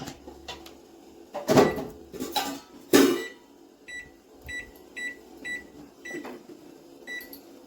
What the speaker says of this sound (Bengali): এই যে এটা মাইক্রোওয়েভে দিয়ে দিলাম, 7 মিনিটের জন্য অন করে দেবো।